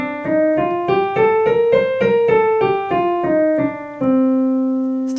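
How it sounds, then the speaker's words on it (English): A C Dorian scale on piano, played note by note in an even rising and falling run that ends on a held low note, loud and close with no talking. "C Dorian sounds like this."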